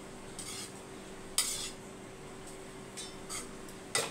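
A spoon mixes cooked rice in a metal vessel for a lunch box, giving a few sharp clinks and soft scraping strokes spaced apart, faint and close, with no talk.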